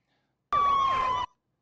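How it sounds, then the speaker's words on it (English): A police car siren wails in a Steven Seagal movie scene. A single loud burst of the siren cuts in sharply, holds its tone for under a second, then stops abruptly. "Their lights and sirens."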